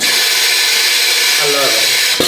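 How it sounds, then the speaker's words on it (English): A leg-supported rock drill spins at full power deep in a silver mine, loud and steady, with a brief voice under the roar near the end. "The drill is on, it doesn't do anything else but spin."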